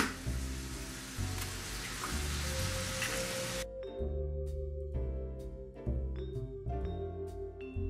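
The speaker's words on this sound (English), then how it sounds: "just chop it up and fry it like I'm doing here" Chopped bacon frying in a pan gives a dense, steady sizzling hiss for the first half, then drops away, leaving a continuous musical backing underneath throughout.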